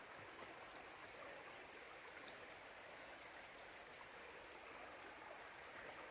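A low river stream flows steadily beside the Appalachian Trail with a constant, even rushing of water, soft and unbroken, with no voices.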